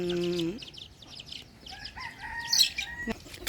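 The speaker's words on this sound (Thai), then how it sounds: "ส่วนตรงนี้จะเป็นไก่แม่ลูกอ่อน" A mother hen clucks and fowl call in a farmyard, with wings flapping and soft, scattered peeping of chicks at moderate distance.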